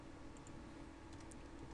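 Typing on a computer keyboard while entering network proxy settings, a steady stream of soft, quiet key clicks with a few brighter taps, close and alone over a faint background hiss.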